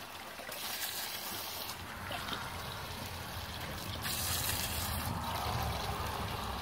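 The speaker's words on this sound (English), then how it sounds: "I have a pretty good stream." A strong stream of water runs from a garden hose onto drainage filter fabric, a soft, continuous splashing and trickling that stays fairly quiet and even throughout.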